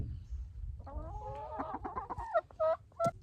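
Hens clucking and chattering up close in a backyard flock with young chicks, a run of rapid clucks building to several louder, drawn-out squawks near the end.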